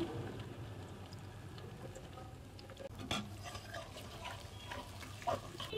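Onion and garlic sizzle in hot oil in a home kitchen pan, with kumro bori lentil dumplings. The frying stays quiet and steady, with occasional stirring clinks.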